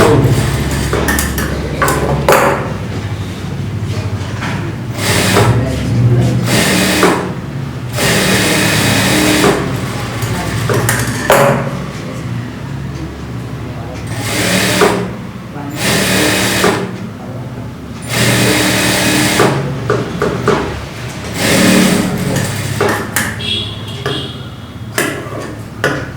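A sewing machine stitches a blouse in single-line seams, running in repeated bursts with short pauses between them, close and fairly loud, with a steady rapid mechanical chatter throughout.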